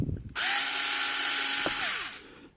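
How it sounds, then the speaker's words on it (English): A power drill whirs steadily for about two seconds at close range, its pitch shifting slightly as it bites into a plastic model kit, then winds down. "making sure you place the drill where you want it"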